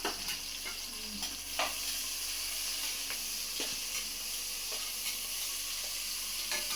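Whole spices frying in a hot pan for veg biryani give a steady, close, dense sizzle, broken by a few sharper spatters and the scrape of stirring throughout.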